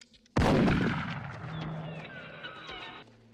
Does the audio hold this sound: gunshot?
yes